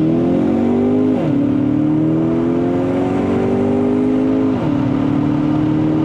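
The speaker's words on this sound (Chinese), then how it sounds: "这辆车在 Sport 了之后会有一个 V8 的声音啊" A Kia Optima GT with 242 hp and 350 Nm accelerates hard in Sport mode after kick-down, its engine droning loudly and climbing in pitch through two gear changes, each marked by a sudden drop in tone.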